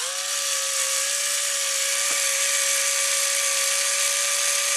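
A small power driver whines steadily at a high pitch while running bolts into the control arms of a 1/8 scale RC short course truck, a continuous close motor tone with no talking.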